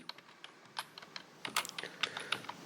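Quick irregular keystrokes on a computer keyboard as a domain name is typed, close and fairly quiet, with a short burst of rapid taps in the middle.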